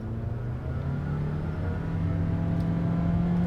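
A Toyota RAV4 Prime accelerates hard toward 60 mph, a low, steady engine drone with a gently rising hum, heard from inside the cabin at moderate level, continuous and without speech.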